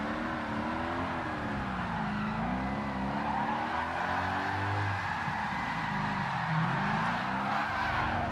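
Drifting car in a Gran Turismo-style racing video game with a drift tune, its engine droning and rising and falling steadily under a continuous wash of sliding tyre noise, loud and close throughout with no talking.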